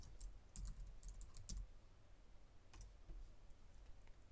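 Bursts of light tapping on a computer keyboard while entering text for a Cricut card design, quick uneven clicks in short clusters, faint and close in a quiet room.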